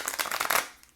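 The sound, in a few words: tarot cards being shuffled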